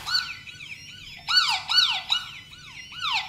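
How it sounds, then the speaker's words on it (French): An Aqara U200 smart lock's tamper alarm sounds in repeated falling chirps, a warbling pattern of several sweeping tones, moderately loud and close with no voices. "L'alarme se déclenche en guise de sécurité"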